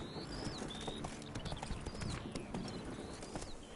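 Roach, Geralt's horse in The Witcher 3, trotting with a steady rhythmic clip-clop of hooves, fairly quiet under an ambient backdrop with occasional bird chirps.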